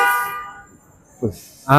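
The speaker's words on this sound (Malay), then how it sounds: "tapi ni horn je." Car horns honk on a busy New York street, a long blaring honk at first, then a short toot and another loud blast nearby, with traffic noise between.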